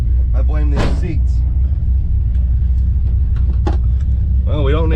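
Rumbling idle of a 1970 Plymouth Duster 340 race car engine, a loud, steady low drone throughout, with someone talking over it and short whoops of voice above the engine.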